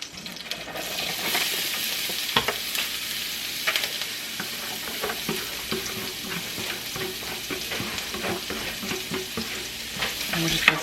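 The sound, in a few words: onions frying and being stirred in olive oil and butter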